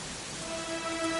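Rain falls steadily in the video game Dragon Quest XI, a dense, even hiss of raindrops with a faint sustained tone beneath, loud and continuous with no voices.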